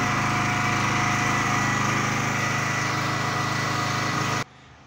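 A Honda generator engine runs loud and steady with a constant droning hum close by, then cuts off abruptly near the end.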